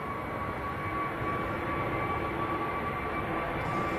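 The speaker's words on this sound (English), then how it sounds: "have Sun Express taxiing out as well" Sun Express airliner taxiing at Manchester Airport, a steady distant engine whine and hum with a sustained tonal note, unbroken throughout and no voices.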